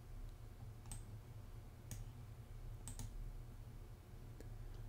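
Computer mouse clicks, a few sharp isolated clicks spaced about a second apart, some in quick pairs, over a low steady room hum, faint and close.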